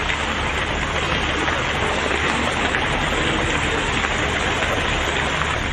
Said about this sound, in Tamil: திருநெல்வேலி மாநகர பகுதிகளில் மிதமான மழை பெய்தது.